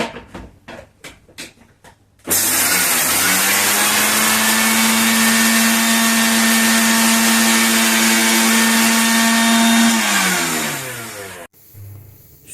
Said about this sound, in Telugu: ఇవి కూడా మెత్తగా ఇట్లా గ్రైండ్ చేసేస్తున్నాము.